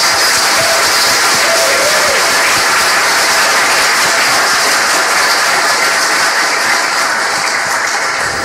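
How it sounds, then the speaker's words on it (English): Sustained, dense applause from a conference audience at the PyCon UK 2014 keynote, thanking the organizers; a loud, even wash of clapping fills the whole stretch with no talking over it. "One more round of applause for all of the organizers."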